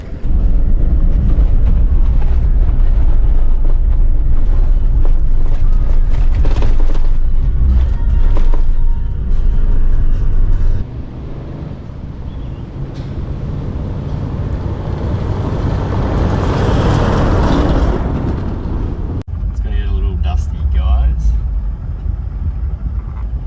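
A car rattles and rumbles steadily along a corrugated, sandy, dusty outback dirt road in Arnhem Land, a loud continuous interior roar with bumps and jolts, easing off partway through and picking up again, with people talking over it.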